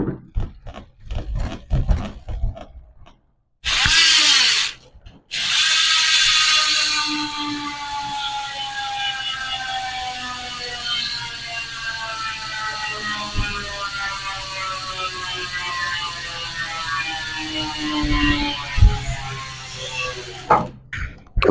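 A Hassns Pro 7 bicycle hub with 6 pawls and 3 teeth, on a 700C by 25C wheelset, freewheels with a steady high-pitched buzzing whir that runs for many seconds, close and loud with no voices.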